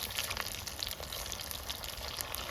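Chicken pieces for chicken 65 fry in foaming cold-pressed oil over an outdoor fire, giving a continuous close crackle and sizzle with scattered bright pops throughout.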